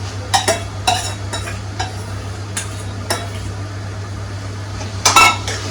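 Mashed roasted eggplant is mixed with spices in an oiled pan for bharit, with a spoon clinking and scraping against the pan in irregular bursts over a soft sizzle and a steady low hum.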